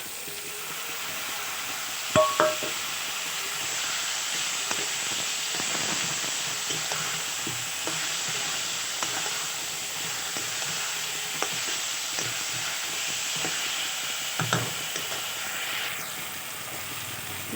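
Ginger garlic paste frying in a pan for spicy chicken kosha, a continuous hissing sizzle heard up close, with occasional sharp knocks and scrapes of a stirring spoon.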